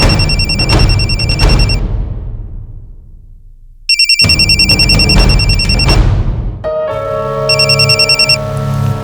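A phone ringtone plays loud and close, an electronic chiming melody in repeated bursts with short gaps between them, then a different tonal ring pattern near the end, with no talking.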